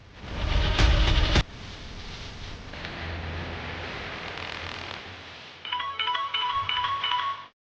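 A phone ringtone plays on a handset in a Telugu television drama scene, a repeating electronic melodic pattern heard most clearly in the final two seconds after a loud opening thud and muffled background noise.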